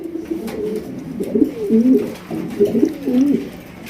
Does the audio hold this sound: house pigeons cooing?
yes